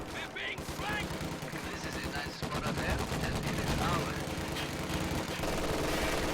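MG42 machine gun in the Company of Heroes 2 strategy game, rapid bursts of gunfire mixed with other battle shots and explosions, dense and continuous, with someone talking over the fighting.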